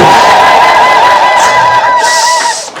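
Ululation and cheering from a church congregation during an Ethiopian Orthodox sermon, a loud sustained trilling chorus of many voices with a steady warbling pitch, continuing without break for nearly three seconds.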